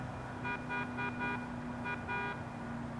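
Car horn in the racing game Gran Turismo 7, sounding as a few short beeps in quick succession followed by a longer pair, clear over a faint steady background hum.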